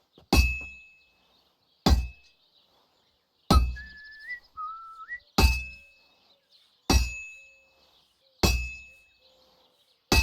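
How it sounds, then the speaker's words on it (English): A hammer strikes a heated sword on an anvil at a forge in Kingdom Come: Deliverance II, seven loud ringing metallic clangs spaced evenly about every second and a half, each decaying into a short ring, with faint whistling tones between blows. "Now take the hammer and try hitting it a few times."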